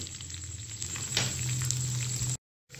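Spicy chilli chicken pieces frying in a pan give a steady, close sizzling hiss with faint popping, cutting to silence briefly near the end.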